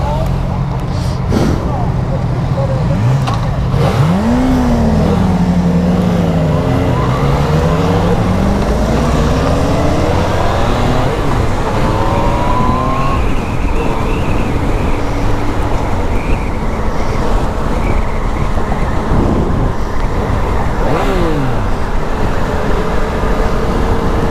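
A Yamaha FZ09 motorcycle is ridden on the road, its engine droning steadily beneath constant wind rush, with revs rising and falling through shifts and a rider talking over the noise.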